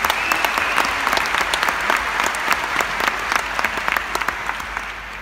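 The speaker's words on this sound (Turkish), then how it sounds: "Büyük bir alkış istiyorum Vasf Öngören için." A theatre award ceremony audience bursts into loud, sustained applause, dense clapping that carries on throughout and tapers slightly near the end.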